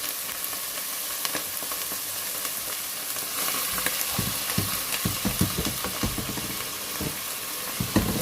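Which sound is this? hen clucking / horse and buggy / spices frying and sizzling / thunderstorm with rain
spices frying and sizzling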